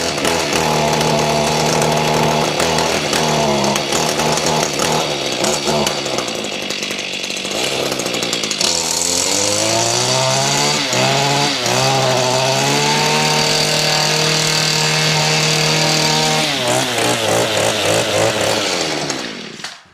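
A small gas lawn mower engine starts with one pull and runs loud and close, its buzzing pitch rising and falling as the throttle is worked, with no talking.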